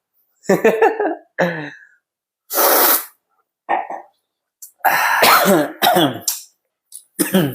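Several sharp coughing bursts from a person, loud and close, spread across a few seconds with short gaps; a couple of brief spoken words fall between them.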